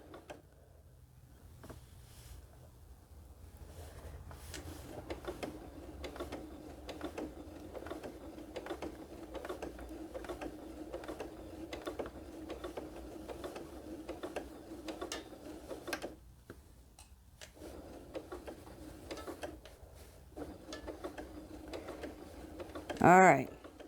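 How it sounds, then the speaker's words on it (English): Sewing machine slowly stitching around a cathedral window quilted pillow, a steady rhythmic mechanical hum and tick that runs on with one short pause, fairly faint, with someone talking over it. "We're just going to keep on slowly stitching around."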